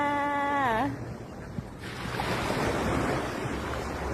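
Sea waves wash onto a beach on a breezy morning, a steady broadband surf roar with wind rustle, preceded briefly by a rising whistle-like tone before the waves take over.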